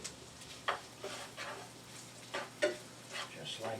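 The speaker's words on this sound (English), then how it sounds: "Now let's grab a spatula and give these a stir." Vegetables including potatoes, onions and zucchini being stirred in a pan with a spatula, a handful of soft scraping strokes over a low sizzle, quiet and close with no talking.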